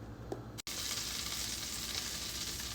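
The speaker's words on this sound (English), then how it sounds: "What I'm going to do is saute my onions inside of the melted butter" Melted butter sizzles steadily in a pot, ready for sautéing onions, a continuous soft hiss and crackle with a brief cut near the start and no talking.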